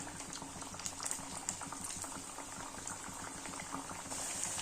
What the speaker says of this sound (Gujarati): આપણે વારાફરતી બધી જ ફરસી પૂરી છે તે ગરમ તેલમાં તળી લેશું